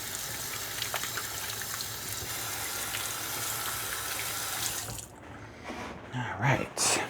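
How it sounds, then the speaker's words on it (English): A kitchen faucet runs steadily while hands are washed during cooking, a close, continuous gush for several seconds that then cuts off, followed by a few light clatters. "I'm gonna just step off to the side here, wash my hands real quick while we're waiting for that butter to melt."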